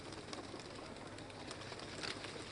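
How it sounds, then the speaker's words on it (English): White pigeons being released from a cage at an outdoor independence anniversary ceremony, with a faint, steady wash of crowd and outdoor noise around soft, brief cooing and wing sounds. "These white pigeons signify peace, and their release from this cage symbolizes freedom for the country."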